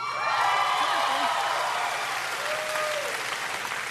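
Audience applause from a comedy club crowd fills the clip, a dense, steady clapping that swells early and then thins slightly, with a voice talking over it.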